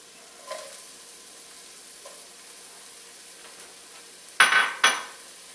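Slivered red pepper dropped into hot oil in a pan for kung pao shrimp; a faint quiet sizzle with a couple of soft taps, then two sudden loud bursts of crackling spatter that quickly die away.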